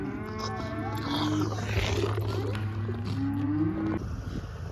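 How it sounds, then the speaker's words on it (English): Several cattle low and moo in a pen, long deep calls overlapping against a steady low hum, fairly close and continuous. "So all these cattle are lined up eating."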